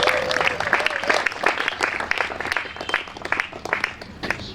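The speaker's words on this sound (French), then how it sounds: "Est-ce qu'on peut l'applaudir très très fort?" Applause at a couple's vow renewal ceremony honouring their children, lively sustained clapping from a gathered crowd, loud and close.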